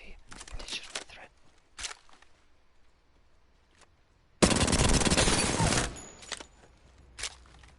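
Light-ammo guns fire on the Apex Legends firing range: short bursts of shots early on, then a loud sustained automatic volley that runs for about a second and a half, followed by scattered quieter shots.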